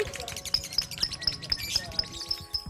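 A pet lovebird, a small hook-billed parrot, gives quick high chirps in a rapid, regular series, fairly close, over soft background clatter and faint voices.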